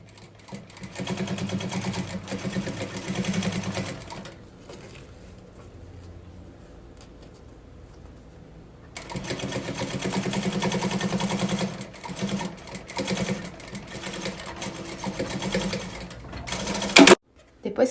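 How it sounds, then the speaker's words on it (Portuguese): A sewing machine stitches pieces of a plastic pouch together for a small purse first-aid kit, running in two steady bursts with a quieter pause between them, loud and close, with bits of talk. "a gente vai passar uma costurinha prendendo todo mundo"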